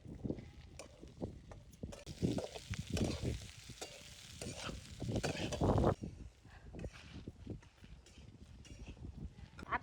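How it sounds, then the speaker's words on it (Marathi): Boiled potatoes sauté with cumin and curry leaves in a pan, a soft sizzle under repeated clattering spoon scrapes that come in uneven bursts, growing busier midway, fairly quiet overall and with no voices. "आता आपण बटाटे एकदम मस्त परतून घेतले."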